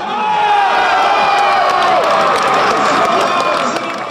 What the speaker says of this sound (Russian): вместе искренне радовались забитым мячам.